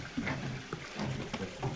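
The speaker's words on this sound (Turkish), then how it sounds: "Suyun sesi de geliyor." Faint, steady rush of running water, low and continuous, with a few small splashy surges.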